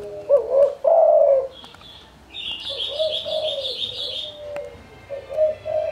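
Spotted dove calls with soft cooing phrases and higher chirps, close by, repeating in short bursts with brief pauses, no talking.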